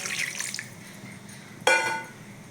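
Hot water poured into a pot of mutton and potato curry, a soft trickle followed by a sudden louder splash and sizzle that fades over a second.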